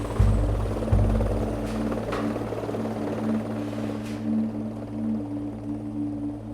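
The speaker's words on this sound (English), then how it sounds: "Soon after, the helicopters arrive to take the soldiers away." Military helicopters arriving at a patrol's extraction point in Darwan, Afghanistan, rotor drone humming steadily at moderate distance with a few low thumps early on, no voices.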